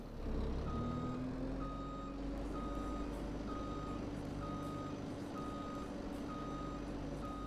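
Reversing beeps from a truck in the farming game Landwirtschafts-Simulator 22, at a mining and asphalt production site: steady evenly spaced beeps about once per second over a continuous engine drone, with no talk.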